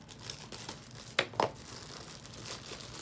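Scissors snipping and crinkling into a mystery box package, two brief sharp cuts and rustles close to the mic with a steady background hiss.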